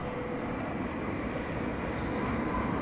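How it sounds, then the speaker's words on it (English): A Beech C-99 twin-engine plane at DFW Airport at night produces a steady, dense engine roar that fills the whole stretch at a constant, fairly loud level, with no voices. "It's a Beech C-99 twin-engine plane."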